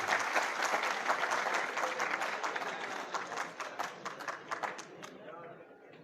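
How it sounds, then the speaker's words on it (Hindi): An audience claps warmly at a university law college mushaira, dense overlapping applause that holds steady and then thins and fades toward the end. "आपकी भरपूर तालियों में तालियां बजाइए।"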